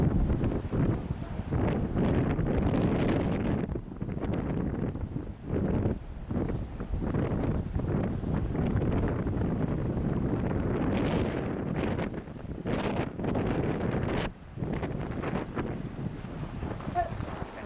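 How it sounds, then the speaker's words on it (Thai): Strong winter wind by the sea in Hokkaido, Japan, buffets the microphone in a constant, loud roar with gusty surges throughout, no clear voices above it. "ตอนนี้ลมแรงมากๆ อยู่แล้วนะครับ"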